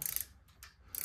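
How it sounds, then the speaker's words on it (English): A torque wrench clicks sharply while tightening a bolt on a vintage car's air compressor bracket, with a couple of quick ratcheting snaps at the start and end of a brief quiet moment. "This is German torque. And click, click. That's good and tight."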